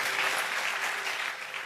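A church congregation claps for God in a sustained, loud burst of applause, many hands blending into an even, continuous roar without any speech over it.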